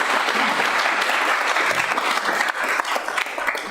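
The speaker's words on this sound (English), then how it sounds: "Let's get a big round of applause for all these guys." Sustained, fairly loud applause from a city council meeting audience, a thick continuous wash of many hands clapping with no talking over it.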